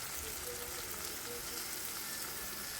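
Dried chilli pieces and raw banana paste fry in oil, giving a steady, faint, even hiss throughout with no distinct pops or talk.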